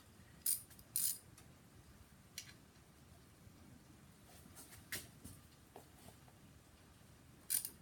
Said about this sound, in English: Now, I'm going to use a socket and ratchet.